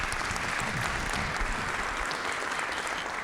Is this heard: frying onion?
no